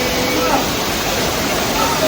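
A waterfall drops from a great height in a hidden natural spot in the UK, giving a steady, loud, broadband rush of falling water that fills the whole clip without a break.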